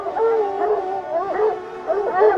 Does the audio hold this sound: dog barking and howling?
yes